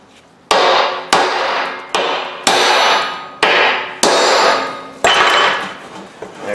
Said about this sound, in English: So give her a couple whacks.